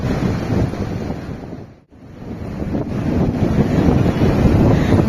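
Strong sea wind and rushing waves heard from aboard a boat, a loud continuous roar that briefly dips to near quiet before surging back even louder.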